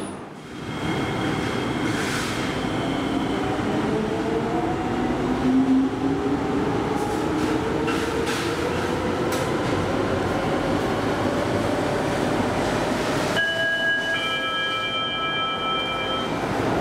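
A Singapore MRT train hums and rumbles steadily at a station platform, with tonal whines from the motors and a rising electric pitch near the end.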